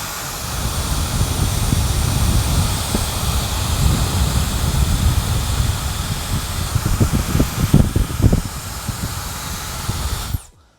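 A Laifen hair dryer blows a steady, loud broadband hiss of rushing air for about ten seconds, holding even with slight wavering before cutting off abruptly at the end.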